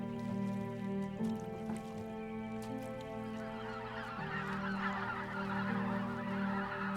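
A flock of migrating geese honks over flat open North Sea coastland, many overlapping calls in a continuous, fairly close chorus with no voices.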